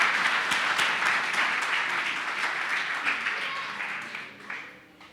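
A church congregation at a Sunday sermon breaks into sustained applause, dense crowd clapping that holds steady, then thins and fades out toward the end.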